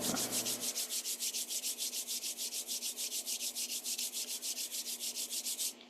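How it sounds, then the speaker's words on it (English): Two hands rub briskly together close up, a rapid, even back-and-forth swishing of about thirty strokes that runs steadily for over five seconds with no talking. "I do by rubbing my hands together so they get kind of warm"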